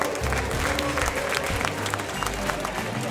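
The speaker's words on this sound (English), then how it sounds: "Give yourselves a round of applause" Pageant audience applauding steadily in a hall, dense continuous clapping with crowd noise throughout.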